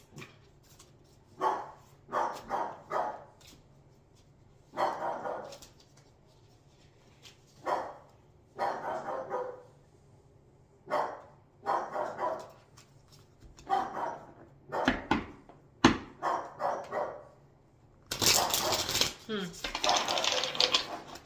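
A dog barks repeatedly in short bursts and clusters, fairly close, with quiet pauses between, ending in a louder, noisier stretch.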